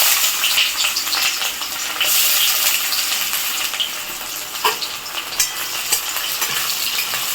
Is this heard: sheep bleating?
no